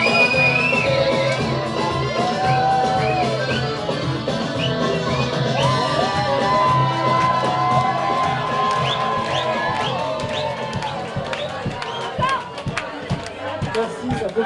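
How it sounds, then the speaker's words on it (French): Audience at a show shouting, whooping and cheering, a loud continuous crowd roar with scattered high yells and talking voices mixed in. "Si le spectacle est réussi, le public se met à hurler, et ça donne ça."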